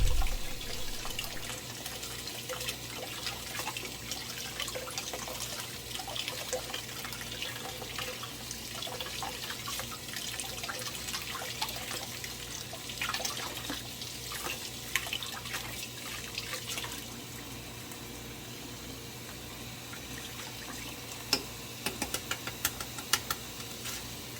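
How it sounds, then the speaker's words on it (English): Steady rush of tap water running over hard-boiled eggs as they are peeled under the stream, a constant close hiss with a few small clicks and taps near the end, no talking. "Then I put it under the running water and I start to peel."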